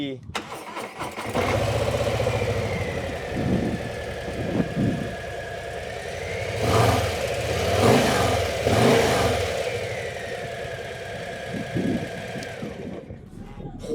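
A Harley-Davidson Low Rider ST engine with stock exhaust idles with a mellow exhaust note and is revved several times, rising and falling, while people talk over it.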